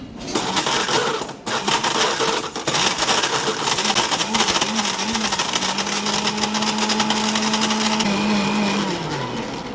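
A kitchen mixer grinder powdering dried turmeric runs loud and close with a harsh whirring roar. After a short dip, its motor drone holds steady and then winds down near the end, with no speech.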